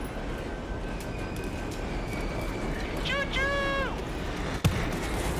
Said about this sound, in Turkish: Evet şu an tren geldi.